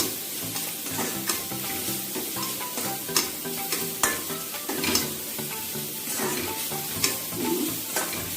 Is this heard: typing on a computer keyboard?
no